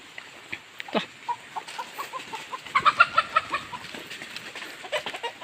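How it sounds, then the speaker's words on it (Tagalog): Several chickens cluck nearby in short, uneven bursts, the clucking growing busier partway through, with no voices over it. "Ang dami pa namang manok nila"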